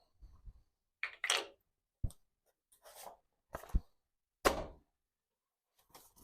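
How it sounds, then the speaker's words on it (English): A pencil writing on paper while sketching a cabinet drawing in a woodworking shop. The strokes come as a few short, dry, close scratching bursts separated by brief silences. "Paper, pencil."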